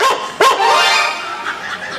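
A lame dog gives two quick, sharp yips close by, followed by a drawn-out whining whimper.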